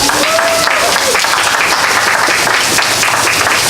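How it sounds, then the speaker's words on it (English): Applause from the audience for the speakers at a faith leaders' press conference on pipelines in Virginia, dense steady clapping filling the room throughout. "I want to give them all a round of applause."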